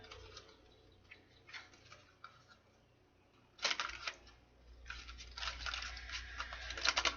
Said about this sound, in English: One more shuffle, Spirit.